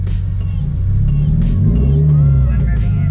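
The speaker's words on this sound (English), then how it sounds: "Ooh, I'm revving it." Manual transmission car engine revving steadily and held at a high, droning pitch while a learner works the clutch and gas, close and loud throughout, with no talk.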